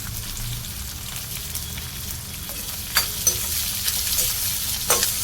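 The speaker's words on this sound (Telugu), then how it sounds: "ఆనియన్ మంచిగా వేయించుకోవాలి" Green chillies, curry leaves, cumin and onion frying in a pan for a tindora stir-fry, a continuous bright sizzle with scattered clinks and scrapes of stirring growing busier toward the end.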